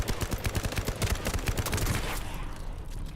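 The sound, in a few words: gunfire in video game Fallout London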